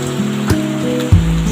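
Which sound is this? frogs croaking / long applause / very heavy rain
very heavy rain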